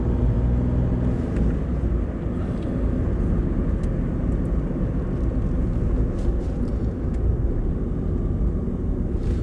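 An Audi A2 TDI 90 diesel engine whirs steadily while driving, with continuous road and wind rumble and no talking.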